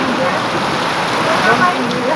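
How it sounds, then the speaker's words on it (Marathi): Heavy rain pours down in a dense, steady hiss that stays loud and unbroken throughout, with a faint voice barely present underneath. "आता बघा कसा चालू आहे जोरात पाऊस"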